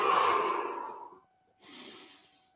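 A deep breath during a gentle yoga stretch session, a long audible exhale fading out, a short pause, then a softer breath in, close and alone.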